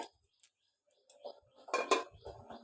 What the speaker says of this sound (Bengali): এবার আমি কড়াইটাকে ঢেকে দেব